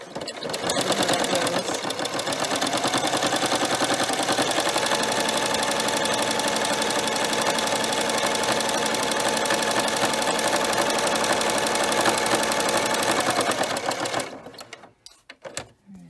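Sewing machine with a knit foot stitching two folded layers of knit fabric on a straight triple stitch, running in one loud, continuous, close whir for about fourteen seconds before stopping abruptly, followed by a few faint clicks.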